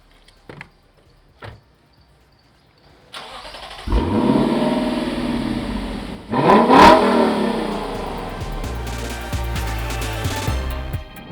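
Lexus LC500 coupe: a couple of clicks, then the engine cranks and fires with a loud burst, settles into a rumbling idle, and revs sharply once before dropping back to a steady, throaty idle.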